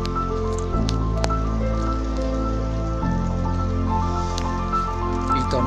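Steady rain falling during a night storm, with close drips and raindrops spattering on a surface in a continuous, fairly loud wash.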